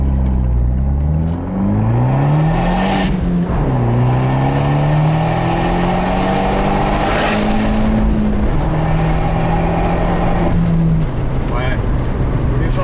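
An Abarth 124 Spider's turbocharged engine and exhaust rev and pull through the gears, pitch climbing and dropping at shifts, loud from inside the car with people talking over it.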